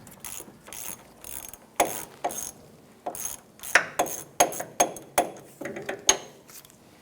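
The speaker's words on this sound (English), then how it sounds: "Use an 11mm socket with your ratchet. Go ahead and loosen this bolt." A hand ratchet fitted with an 11mm socket loosens a bolt on a 1994-2004 Chevrolet S10, giving a run of close, crisp clicking strokes that come in quick bursts and grow louder toward the end, with no talking.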